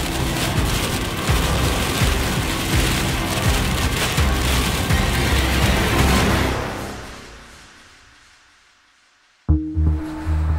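Heavy rain drums hard and close on a vehicle during a storm chase on a dirt road, a loud dense patter that fades to near silence before a sudden loud burst returns at the end.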